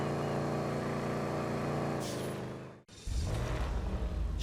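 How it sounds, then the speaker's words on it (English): Picador muscle car engine in GTA Online, a steady low rumble with dense harmonics that drops out briefly, then returns as a revving pull with rising pitch. "The Picador, you're going to hear this sound a lot, shared amongst a lot of cars."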